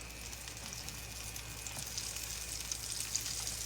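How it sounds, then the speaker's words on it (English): Flour-coated jalapeños fry in hot oil with a steady, close crackling sizzle and no talking. "You want it to start frying when you put it in there."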